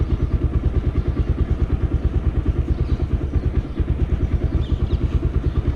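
A Bajaj Pulsar motorcycle engine idles steadily and close by, with a fast, even chugging pulse and a light mechanical clatter running throughout, no other sounds on top.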